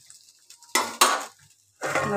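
Chow mein with potato and carrot being stirred in a pan: three distinct scraping, clattering strokes of a spatula against the pan, separated by quiet pauses, close and clear.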